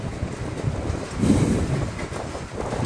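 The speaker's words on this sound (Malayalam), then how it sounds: "അത് ദൂരത്തോടെ ആ എഞ്ചിൻ പോകുന്നുണ്ട്" A train rumbles steadily along the rails through curving Western Ghats mountain track, a continuous low mechanical roar with a brief swell in the middle and no voices.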